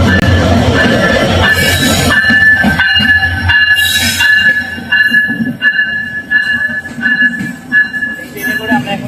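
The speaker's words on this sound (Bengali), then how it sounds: "এই সামনের এই ট্রেনটা যাবে হচ্ছে কুষ্টিয়ার লাইনে" A train stands at a busy station platform, bound for the Kushtia line, with a loud steady rumble, hissing and metallic squeal tones while passengers wait; voices murmur faintly in the crowd.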